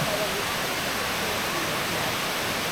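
Waterfall at Shirogane Onsen, Japan, in snowy surroundings with partly frozen ice formations: a steady, dense rushing hiss of falling water, even and unbroken, with no talk.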